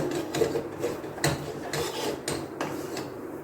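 A thick lentil and jaggery filling for paruppu poli is stirred in a pan, making repeated dull scraping strokes in an uneven rhythm close by.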